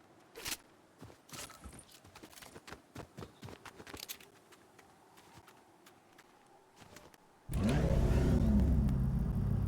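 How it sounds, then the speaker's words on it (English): A car engine in the video game Fortnite roars up loudly and steadily after several seconds of scattered clicks and thumps, a sustained revving rumble filling the last couple of seconds. "It's a really nice car."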